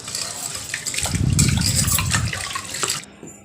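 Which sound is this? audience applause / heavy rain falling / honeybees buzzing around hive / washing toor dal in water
washing toor dal in water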